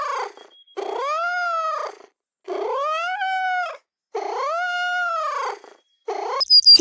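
A domestic cat gives three long, drawn-out meows in a row, loud and close, each rising then falling with short pauses between, ending in a brief higher cry.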